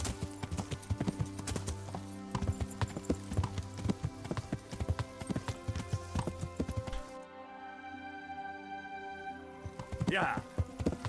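A horse clip-clops at a steady gait in Kingdom Come Deliverance over game music, and the hoofbeats fade into quieter ambience near the end.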